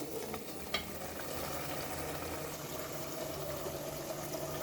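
Rohu fish curry simmering in a pan on the stove gives a steady, even bubbling sizzle that holds at one level for several seconds, with no talking.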